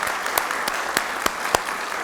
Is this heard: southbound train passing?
no